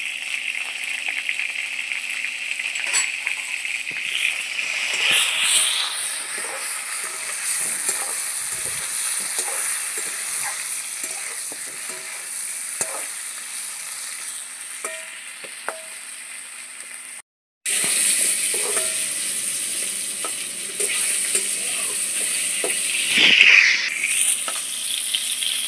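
Pointed gourd (potol) frying in a pan with salt and turmeric, a steady oil sizzle broken by repeated stirring scrapes and clinks, close and fairly loud throughout.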